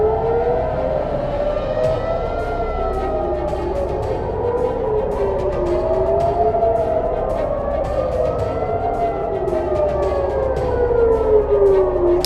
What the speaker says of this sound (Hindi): इजराइल के कई इलाकों में हवाई हमलों के